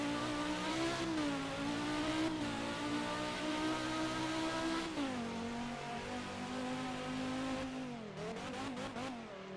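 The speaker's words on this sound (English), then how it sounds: "they called this engine the Screaming 5 cylinder" Volvo's loud screaming five-cylinder, a 2-liter 290-horsepower front-drive car in the Driving Empire video game, holds a high, sustained rev with a few dips and climbs, then a burst of quick throttle blips near the end, up close and alone.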